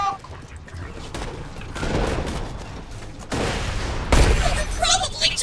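Mortar fire in Borderlands 2 lands as a series of heavy blasts and rumbling bursts, loud and close, with a sharp impact near the end amid dense game noise.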